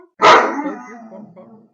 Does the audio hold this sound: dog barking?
yes